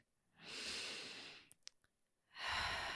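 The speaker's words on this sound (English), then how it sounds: "and breathe" Two long, soft breaths close to the microphone, an inhale and exhale separated by a brief pause with a couple of small clicks, quiet and unhurried with no talking.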